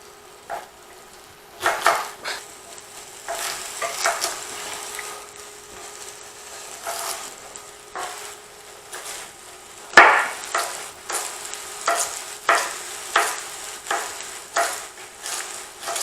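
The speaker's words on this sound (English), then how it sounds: "what we're going to do is we want to brown these vegetables" Carrots and other vegetables browning with garlic over high heat, with repeated scraping and knocking of a utensil stirring in the pan above a steady low sizzle, close and intermittent.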